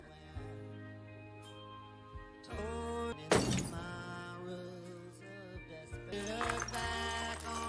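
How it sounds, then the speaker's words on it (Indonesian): A drinking glass smashed by a character in a Moon Knight series scene, a bright shattering crash with tinkling shards over sustained dramatic music. "ia sedang minum dan tiba-tiba memecahkan gelas tersebut"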